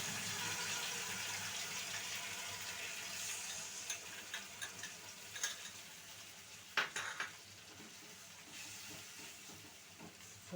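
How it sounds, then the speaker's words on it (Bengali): Sauce goes into fried chicken in a pan and gets stirred, with soft continuous sizzling and scattered clinks and scrapes of a utensil against the pan, fairly quiet and close. "এটা তো ভাজা হয়ে গেছে, এবার আমি এই সসটা দিয়ে দেবো।"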